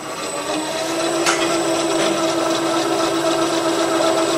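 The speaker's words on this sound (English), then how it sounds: "Next thing we do is bring the rotor up to speed." A rotor on a single-plane balancing demonstration rig spins at speed, giving a steady whirring mechanical hum with a constant tone and a brief click partway through.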